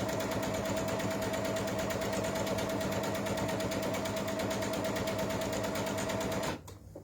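A sewing machine stitching a strip for a trip-around-the-world quilt runs in one fast, steady, loud mechanical whirr, then stops abruptly near the end, with no talking.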